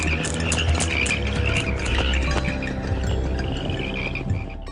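Dense chorus of toads croaking continuously, loud and close, with many overlapping calls forming a steady throbbing drone and no voices.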